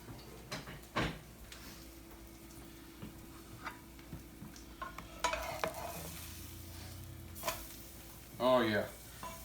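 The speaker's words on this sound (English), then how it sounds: "I'm just going to throw the quesadillas on with it" Quesadillas fry in butter in a pan with a quiet, steady sizzle, broken by scattered clicks and scraping knocks. A louder clatter comes near the end.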